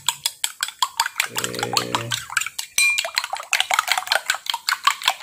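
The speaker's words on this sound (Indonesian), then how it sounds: "ini untuk telur ayamnya saya akan kocok terlebih dahulu" Chicken eggs are beaten in a bowl by hand in a home kitchen for a shrimp stir-fry, producing a fast steady rhythm of clinking, sloshing strokes, close and loud, with a brief spoken word.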